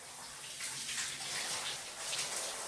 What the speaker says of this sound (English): Oh, this is the shower I've been hearing.